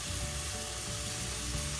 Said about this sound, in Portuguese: e a cebola continue fritando,